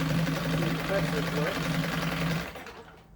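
A 1975 Johnson 9.9 hp outboard motor idles with a steady, buzzing drone that holds evenly, then fades away over the last half-second as the engine is cut.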